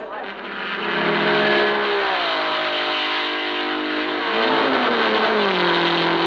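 A Porsche 550 RS Spider racing engine drones loudly and steadily at the 1954 Le Mans race, its pitch rising and then shifting as the car passes, with no voices over it.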